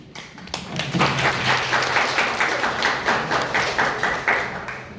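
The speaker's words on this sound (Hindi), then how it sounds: "इतनी ताली कभी नहीं बजी।" Audience at a Hindi department academic session in India breaks into sustained applause that is loud and close, with some claps falling into a rhythmic beat as it goes on.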